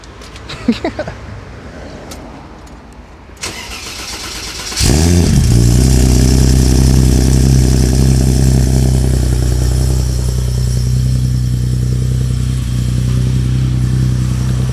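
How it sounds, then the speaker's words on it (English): After some clattering and handling noise, a BMW E30's engine fires up loudly and settles into a deep, throaty, sustained roar through its new exhaust, close by. "And it has an exhaust this time."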